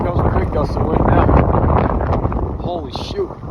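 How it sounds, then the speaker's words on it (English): Hurricane Ian in North Carolina brings a big, loud gust of wind with sweeping rain, a heavy roaring rush buffeting the microphone while a person speaks over it. "Here comes a big gust of wind now."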